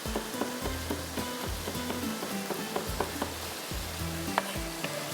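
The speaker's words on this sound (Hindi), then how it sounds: "फ्रेश गार्लिक जाएगा बटर के साथ।" Fresh garlic sizzles in butter in a pan, a continuous close crackle and hiss with periodic stirring scrapes, no voices.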